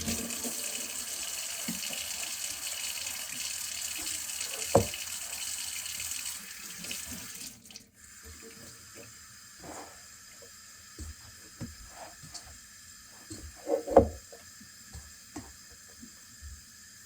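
Kitchen tap running steadily for several seconds to wet a hand during sourdough making, then shutting off, leaving quiet handling noises and soft knocks.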